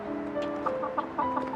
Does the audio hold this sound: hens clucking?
yes